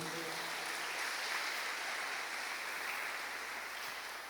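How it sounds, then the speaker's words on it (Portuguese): A church congregation applauds together, a sustained soft clatter of clapping heard from a distance, fairly faint and even from start to finish with a faint low hum beneath. "Aplauda bem forte a Ele"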